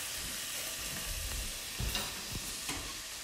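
Bacon lardons frying in a pan with no oil, a steady crackling sizzle with a few sharper pops and scrapes of stirring, close up and without talk.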